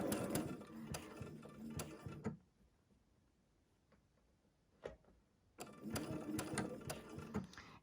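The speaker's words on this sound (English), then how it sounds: "take your time, sew slowly, make sure you're in the needle down position" A sewing machine runs in short, slow bursts of rapid mechanical ticking while quilting a quarter-inch seam, pausing for a few seconds in the middle before stitching again.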